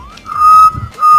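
A person whistles a short melodic phrase, two clear sustained notes with a brief break between, loud and close, alone without talk.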